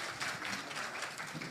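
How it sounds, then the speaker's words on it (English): An audience at a Beirut AI meetup claps for startup weekend participants, a brief, fairly faint patter of hand claps with uneven bursts, no voices over it. "give a big round of applause"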